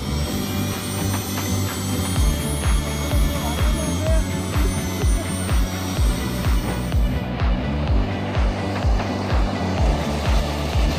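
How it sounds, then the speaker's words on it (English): A jet engine mounted on a bicycle roars loudly and steadily, with a rapid rhythmic low pulsing under a high-pitched whine throughout, close by and alone. "These guys made this idea a reality by installing a jet engine on a bicycle."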